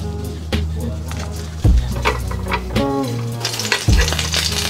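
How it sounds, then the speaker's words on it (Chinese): Shrimp paste seaweed rolls sizzle steadily in a pan, with a continuous frying hiss broken by several sharp clanks and scrapes of a utensil against the pan. "煎的时候搓一搓，变硬了就可以出锅了"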